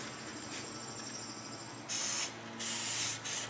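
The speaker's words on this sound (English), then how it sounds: "I'll probably lube up that mechanism a little bit." Crown T40 lubricant sprayed onto a Chevy Tahoe rear door lock mechanism, three short hissing bursts, close and fairly loud, after a quiet stretch.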